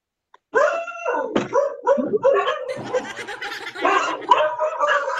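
Dogs bark and howl excitedly at night in a rural Philippine setting, a sudden, loud and continuous overlapping chorus starting after a brief click and carrying on throughout.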